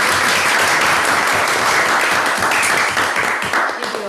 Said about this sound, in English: So I'd like to just give you a little round of